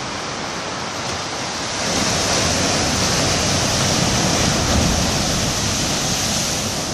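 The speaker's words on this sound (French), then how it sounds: "Ça tape un peu plus par ici, on dirait. Il y a une petite vague arrive" Ocean waves crashing against concrete tetrapods on a harbour breakwater at dusk in Réunion, a steady roaring wash of surf that swells louder after a couple of seconds and holds as a broad, close, continuous rush.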